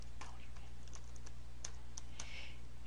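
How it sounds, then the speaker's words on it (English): Someone types on a computer keyboard while entering text into project scheduling software, giving a quick, light run of close key clicks over a low steady hum. "go ahead and type in warranty."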